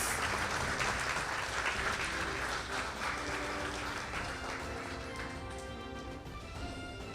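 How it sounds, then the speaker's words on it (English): Audience applause following the signing of railway construction contracts at a formal ceremony, a steady wash of clapping that slowly thins and fades toward the end. "Let us give the gentleman here a round of applause."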